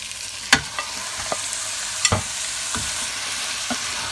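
Mutton pieces sizzle in a pan of fried onions while a spoon stirs, giving several sharp scraping clatters over a steady frying hiss, close and without talk.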